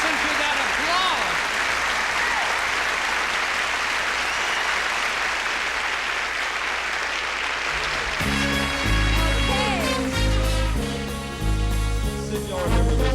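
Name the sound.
audience applause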